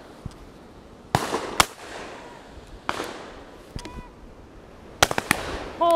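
A William Evans Pall Mall side-by-side shotgun is fired at game birds during a pheasant and woodcock shoot, with several sharp outdoor reports spread across the clip, the later ones in a quick cluster, each trailing a short echo.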